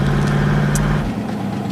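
A car rolls to a stop: a low, steady engine rumble holds for about a second and then drops away into quieter background hum.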